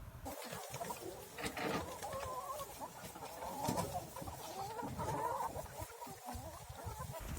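Chickens on farmland cluck intermittently over a continuous, fairly faint outdoor background, with no speech.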